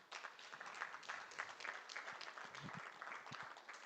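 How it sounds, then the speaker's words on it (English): An audience at a construction law conference applauds as a panel chair walks on stage, steady sustained clapping heard at a moderate distance with faint voices mixed in. "Round of applause as John comes on stage."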